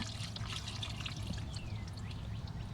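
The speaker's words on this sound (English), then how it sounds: "just trying to drain some of this water." Flood water drains away in a garden with a faint, continuous pouring and trickling wash that stays even and soft throughout.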